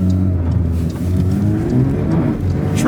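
A Porsche 992 GT3 doing donuts, its engine revving hard and close with rising and falling pitch, tire noise mixed in.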